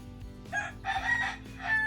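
A rooster crows several times in quick succession, its calls loud and fairly close over low background noise.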